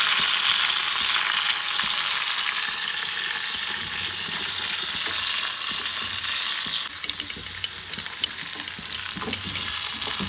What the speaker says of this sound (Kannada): ಸಾಸಿವೆ ಹಾಕೊಂಡು